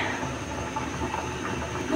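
A pot of chicken nilaga broth at a rolling boil, a steady close hiss with dense bubbling and rumbling that continues without a break.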